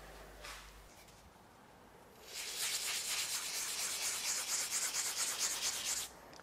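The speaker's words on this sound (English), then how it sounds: "I'm just using a diamond pad." Steady abrasive rubbing of a diamond pad sanding a rough pottery vase, a close, gritty scratching with a quick back-and-forth rhythm that starts after a quiet moment and runs for several seconds.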